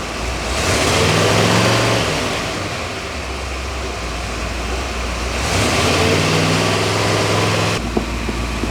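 A carbureted car engine with a distributor idles steadily and close by, a continuous low rumble that swells slightly twice, with no talk.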